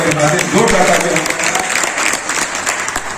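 An audience at a municipal Holi poetry gathering in Kanpur breaks into loud, sustained clapping, a dense even roar of many hands close by with a voice mixed in.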